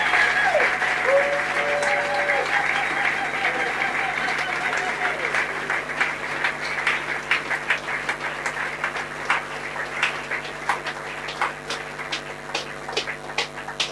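A church congregation at a Sunday service in Bukavu breaks into applause, starting as a steady wash of clapping and thinning into louder, distinct individual claps toward the end, with voices audible beneath.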